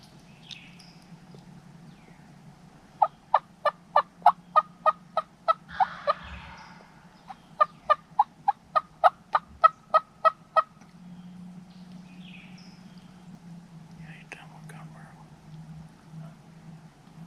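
Wild turkeys gobble in two fast, rattling bursts that follow each other closely, heard from a short distance outdoors over a low, steady background hum.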